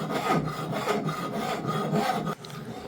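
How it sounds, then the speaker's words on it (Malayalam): Hand file rasping on metal in a village near Gulmarg, Kashmir, making steady back-and-forth rubbing strokes close by, rhythmic and fairly loud, and then stopping abruptly near the end. "അരം കൊണ്ട് എടുക്കുകയാണ്"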